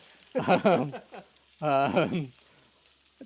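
Eggs and sausages sizzle on wood-fired grill plates, a steady, faint hiss running beneath two bursts of close talk.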